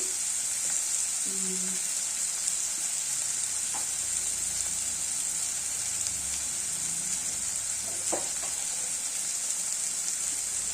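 Salted onions fry in a pan with a steady, close sizzle, with a few light stirring knocks scattered through it.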